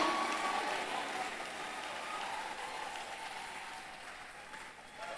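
A church congregation applauds and cheers during a French-language sermon, producing a dense, hissing wash of clapping that starts loudest and slowly fades, with faint voices and a thin tone mixed in.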